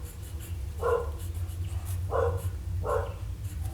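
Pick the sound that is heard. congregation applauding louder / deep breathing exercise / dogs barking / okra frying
dogs barking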